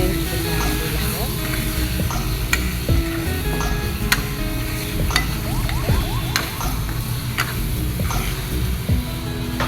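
Onions frying in a pan, a constant close sizzle with scattered clicks and scrapes of stirring, and a voice speaking over the cooking.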